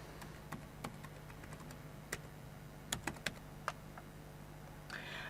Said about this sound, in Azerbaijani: e-mail ünvanını yazıram